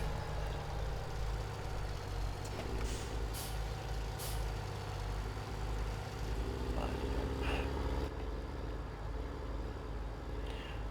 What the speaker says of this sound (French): on va emmener ce tracteur à la prochaine chaîne